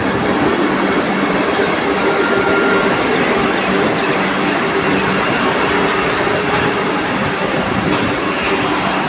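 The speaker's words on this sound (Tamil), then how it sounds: "வந்துட்டே இருக்குது வந்தே பாரத், முடியவே இல்லை" A Vande Bharat express rolls past a station platform, a loud, close, unbroken roar of wheels and rattling carriages with faint squeals, continuing without a break as the long train keeps passing.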